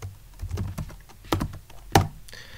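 Computer keyboard typing: a handful of separate key presses and clacks, close and fairly quiet, spaced irregularly with brief pauses between strokes.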